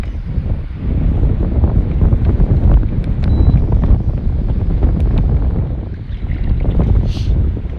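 Steady wind buffets a small boat held in place on the water, a continuous rough rumble close to the microphone with no speech.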